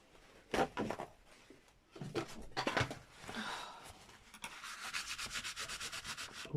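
A dry towel rubs and buffs over a glossy magazine page in close, scratchy strokes, first in separate bursts, then settling into a quick, even back-and-forth rhythm.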